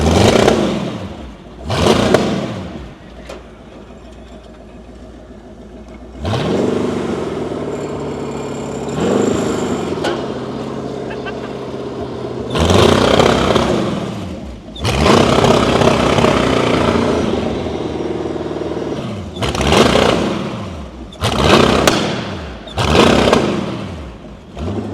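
A lawn mower fitted with a V8 engine, with a kinked fuel line and a hand throttle, rumbles loudly and close by, its revs climbing in repeated surges and dropping back between bursts.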